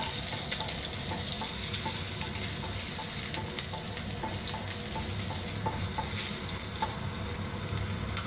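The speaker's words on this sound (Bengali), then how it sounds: "এবার আমি গোটা জিরে ফোড়ন দিয়ে দিচ্ছি বন্ধুরা" Whole cumin seeds sizzle and crackle steadily in hot oil in a wok, a continuous close frying hiss with small pops throughout and no voices.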